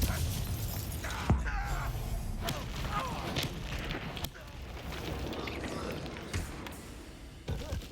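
The Confringo blasting spell explodes in Hogwarts Legacy, giving a sharp burst followed by rumbling, crackling blasts and thuds. The impacts recur amid game action and brief voices.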